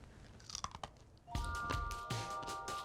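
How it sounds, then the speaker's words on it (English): Crispy bacon is bitten and chewed up close, a few crunchy bites at first followed by louder, sustained crackling mastication, with no talking. "She heard that crunch."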